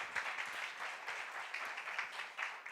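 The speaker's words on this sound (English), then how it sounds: "Let's give them a round of applause" Conference audience applauding at a government technology event, a steady even patter of many hands clapping, moderately distant and continuous throughout.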